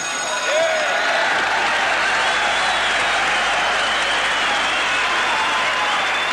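Australian crowd at a heavyweight boxing bout cheering for Joe Bugner, a steady, loud roar of applause and cheering that holds at full strength throughout, with no break or lull.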